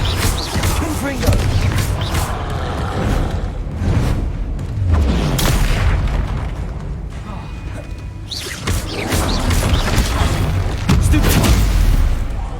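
Spell explosions in the Hogwarts Legacy video game, with repeated booming blasts and whooshes amid continuous combat noise, while a voice shouts spell names over the action.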